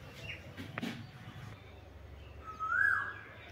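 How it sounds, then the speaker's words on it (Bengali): A koel calls once, a faint distant rising whistle from outdoors, heard over low background rumble after a few soft knocks. "খুব ভালো লাগে না কোকিলের ডাক শুনতে"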